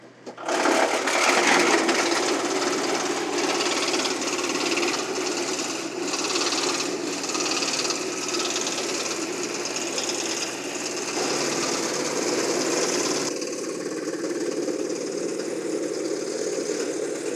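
A loud, steady mechanical roar of a wood chipper on a sub-compact tractor grinding through tree branches, continuous and close, with a slight change in tone near the end.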